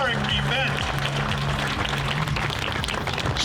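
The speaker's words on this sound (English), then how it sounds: "Let's hear a wonderful round of applause for this wonderful historic event." A crowd at the grand opening of the My Story Museum in Crystal City, Texas, claps steadily in a dense round of applause, with voices talking over it.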